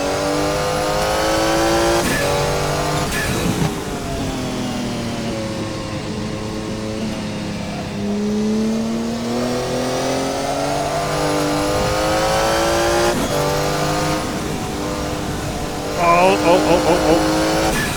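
A Porsche 956 Group C race car, driven in a racing game at the historic Jacarepagua circuit, revs hard through repeated upshifts and downshifts, its engine note climbing and falling steadily, with tire squeal and someone talking over it.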